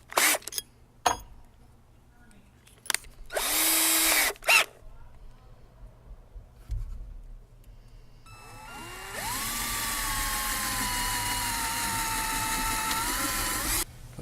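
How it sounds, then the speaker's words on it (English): A 1/8 inch bit drills a hole through the wood of a homemade diddley bow for a pop rivet. A steady, loud whirring grind runs for several seconds, preceded by a few short clicks and taps. "I've got a 1/8 inch drill bit that I'm going to drill into this with"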